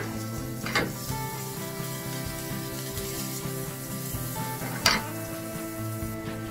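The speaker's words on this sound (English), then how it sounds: "make sure you don't burn the butter. And we'll add the garlic." Garlic sizzles in butter in a pan for scrambled eggs, a low steady crackle with two brief scraping stirs, heard up close and alone.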